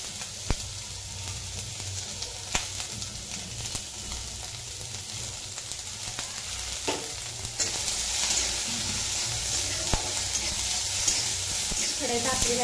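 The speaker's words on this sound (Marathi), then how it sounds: "कांदा आपल्याला चांगला लालसर रंगावरती भाजून घ्यायचा, तांबूस रंग येईपर्यंत" Onions frying in a hot kadhai on full flame until reddish brown, as the base for a paneer curry: a continuous close sizzle broken by occasional stirring scrapes and clicks, growing louder and brighter partway through.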